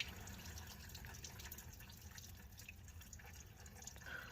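Antifreeze coolant drains out of an ATV's water pump and cooling system, trickling and dripping steadily. The liquid sound is faint and continuous, with no talking.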